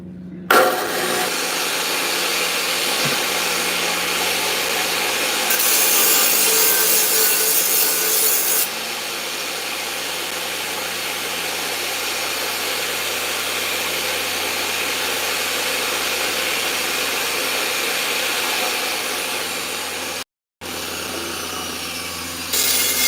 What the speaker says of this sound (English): I got to deburr this pipe